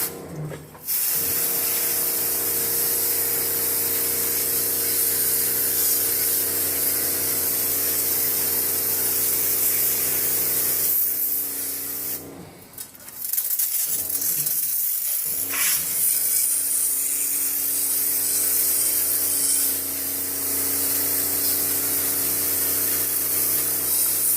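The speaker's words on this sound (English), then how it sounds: "just beginning to hose off the multi-enzyme coil cleaner, which has just been applied" A water hose rinses multi-enzyme coil cleaner off the coils of an air-conditioning system. It makes a loud, steady spray hiss that runs almost without pause, with two brief breaks in the flow.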